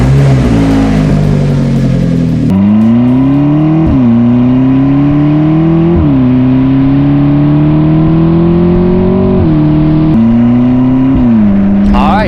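A McLaren being driven, its engine loud and steady with rising revs and several gear-change drops, close up and continuous throughout.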